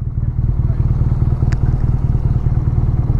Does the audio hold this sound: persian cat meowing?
no